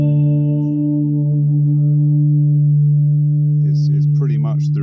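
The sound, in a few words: spooky reverb from homemade ghost echo guitar pedal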